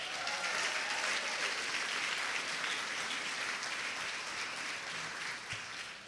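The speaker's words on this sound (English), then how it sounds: "Let's give them both a round of applause." Applause from an Ignite Tampa Bay event audience honoring the organizers, a steady, moderately distant roomful of clapping that tapers slightly toward the end.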